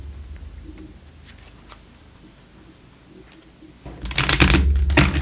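A deck of angel cards being shuffled, heard as a short burst of close, crisp riffling near the end after a stretch of quiet handling.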